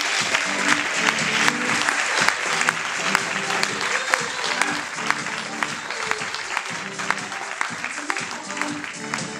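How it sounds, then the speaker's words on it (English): Audience applause greets the world premiere of an improv comedy show, a dense steady wash of clapping sustained across the whole stretch, with a rhythmic musical undertone beneath it. "A big round of applause for Improsia and their world premiere of their show"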